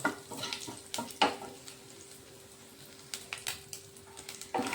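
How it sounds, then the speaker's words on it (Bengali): Cumin seeds spitting and frying in hot oil for a Bengali potol chingri recipe: an irregular crackle of sharp pops and stirring scrapes over a soft sizzle, close and moderately loud, with a faint steady hum underneath. "ওই তেলের মধ্যে আমি দিয়ে দিচ্ছি একটু ফোড়নে জিরে দিয়ে দিচ্ছি"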